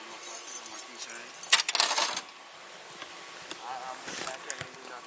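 Handcuff keys on a keychain jangle and clink in a bright burst during a police stop, loudest in the first half and then trailing into quieter rattles.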